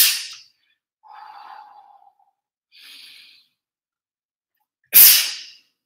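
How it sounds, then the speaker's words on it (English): Heavy breathing during a resistance-band workout: a sharp exhale, a long huffing breath, a shorter breath, then a loud forceful exhale, each separated by silence. "Listen to how I connect with my breathing."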